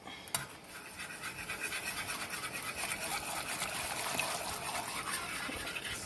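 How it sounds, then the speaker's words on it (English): Sugar is stirred into boiling hollyhock jelly in a pot, a steady close scraping and bubbling swish that keeps on without a break. "I like to stir as I add it"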